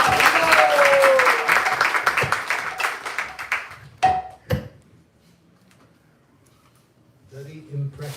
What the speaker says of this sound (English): let's be a big round of applause for Maharaj.